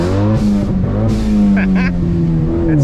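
Ford Focus ST pulling hard from a standing launch on an uphill road, engine revving loud and rising through a gear before easing, with brief higher mechanical whines near the end.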